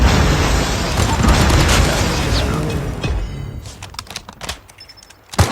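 A grenade explosion in a video game rumbles loudly for a few seconds, followed by scattered sharp pops and bursts fading out.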